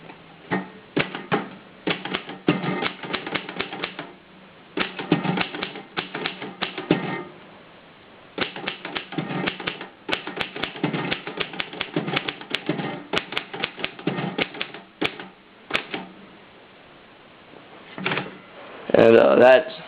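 Manual typewriter keys striking in irregular bursts of rapid clacks with short pauses, close and loud, ending with a louder carriage return and bell-like clunk; fresh ribbon installed, typing out a test line.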